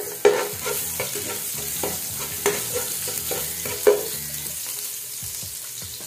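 Garlic hitting hot oil in a pan sizzles steadily, with several sharp stirring clacks and scrapes of the utensil against the pan, close and alone without talk.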